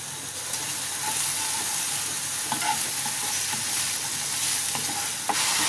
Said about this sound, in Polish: Podajemy cebulkę i musimy ją sobie tak zeszklić